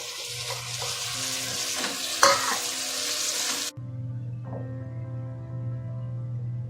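Tomato being stirred into sautéed masala in a pan for an egg gravy, with loud close sizzling and scraping for several seconds, a sharp clack of the spoon, then a quieter steady sizzle with a low hum.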